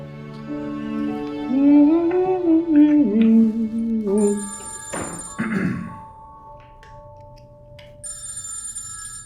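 A telephone rings in a scene from the Pakistani TV drama Zindagi Gulzar Hai, with high electronic ring bursts following tonal background music and a dull thud, then another burst near the end; no one speaks.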